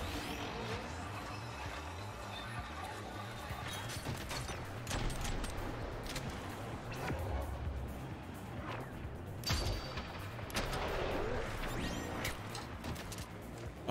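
Explosions and gunfire from the action game Rollerdrome crash and rattle densely throughout, with booming bursts, sharp impacts and mechanical clatter piling on each other at steady, loud intensity.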